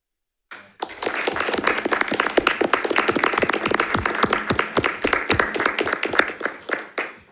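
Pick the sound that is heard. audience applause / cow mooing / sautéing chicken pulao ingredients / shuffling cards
audience applause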